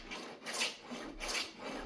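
An old-school wooden hand plane shaves wood in two quiet, rasping forward strokes with a short pause between them, heard close and alone.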